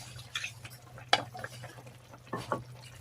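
Marinade poured into pork liempo steak frying in a pan, giving a few sharp sizzling bursts and clinks of a utensil against the pan over a low steady background hum.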